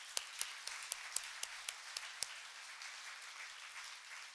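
An audience at a research breakfast event applauds its speakers, a soft, somewhat distant patter of clapping with a handful of sharper individual claps standing out in the first half before thinning into a quieter wash.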